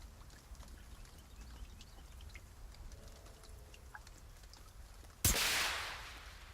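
A single flare gun shot fires in the survival game The Forest, a sharp sudden crack followed by a hissing whoosh that fades slowly against quiet ambient background.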